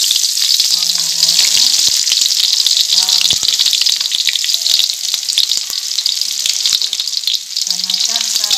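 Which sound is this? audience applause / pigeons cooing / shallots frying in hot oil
shallots frying in hot oil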